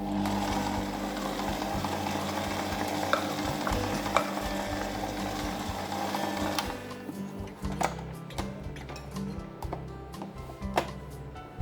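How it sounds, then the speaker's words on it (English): Electric mixer beating frosting in a bowl, powdered icing sugar going in for carrot cake cupcakes, a steady whirring motor churning continuously and fairly close, with no talk. "Do start your mixer on low so that you don't have your icing sugar flying all over the place"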